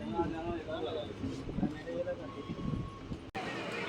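A passenger train rolling out of Rentachintala station, a steady low rumble and rattle of carriages heard from on board, with people talking over it and a brief dropout near the end.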